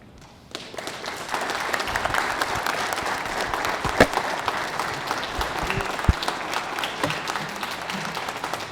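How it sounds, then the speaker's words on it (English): Audience applause at a military retirement ceremony, starting abruptly after a brief quiet moment and continuing as sustained, even clapping from a large crowd, with a few sharper individual claps standing out. "One more round of applause for Colonel Amburn and Colonel Voorhees"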